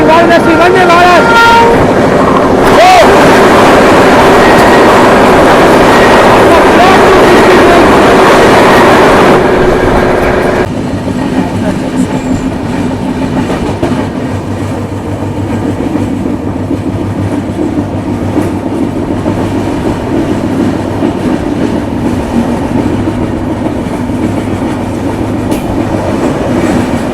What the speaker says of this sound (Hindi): सामने से आ रही है न्यू दिल्ली वाराणसी वंदे भारत।